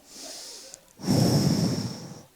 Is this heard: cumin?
no